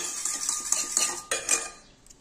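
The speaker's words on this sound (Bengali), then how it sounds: "সামান্য একটু লবণ দিয়ে আমি ভালো করে গুলিয়ে নিই ডিমটাকে" Egg being whisked with salt in a bowl, a quick run of close metallic clinks and scrapes of utensil against the bowl, fading at the end.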